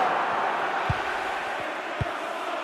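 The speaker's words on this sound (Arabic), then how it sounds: "الآن نسمع أصوات الجماهير" A steady murmur of a large stadium crowd in the EA Sports FC 24 football video game, Manchester City vs Real Madrid: a dense distant roar with a few soft low thuds.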